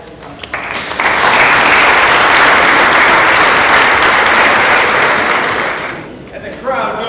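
Audience at a celebration of notable women breaks into loud, sustained applause that swells quickly, holds for about five seconds, then fades, with brief speech before and after.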